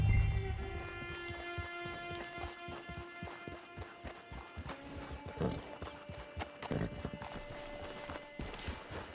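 A horse gallops across open ground in Red Dead Redemption 2. Steady, rhythmic clip-clop hooves sound close by, along with a faint snort, over a soft background music bed and no talking.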